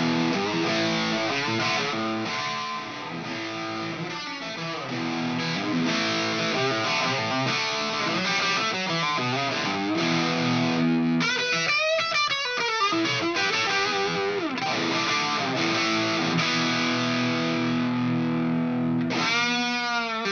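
Distorted electric guitar through a real amp with Helix Native speaker simulation and reverb plays sustained chords and riffs with a roomy reverb tail, clear and upfront with no voices.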